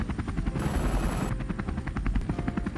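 Helicopter flying with a loud rhythmic rotor thump throughout, a steady whine in the middle stretch, close and dominant with no talk.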